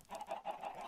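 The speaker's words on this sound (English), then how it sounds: "Oh, hi, chicken." Chicken in the Minecraft video game, giving several quick soft clucks in a short rhythmic run, faint and alone without talk.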